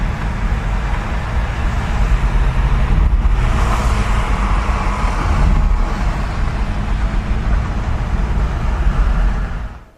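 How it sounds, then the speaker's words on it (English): A Mercedes car accelerates hard past at full throttle, heard as a loud, broad roar of engine and road noise that swells around the middle and stays heavy before fading out at the end. "they're in a big hurry in that Mercedes"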